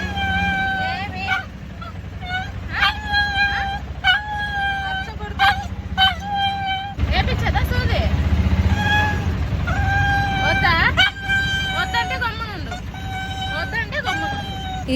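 A sick pet dog named Chintu crying and howling loudly in repeated drawn-out wails while being taken to the hospital, close and piercing, with louder bursts and some background rumble between cries.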